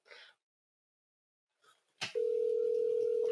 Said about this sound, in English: Can you hear it? It's ringing.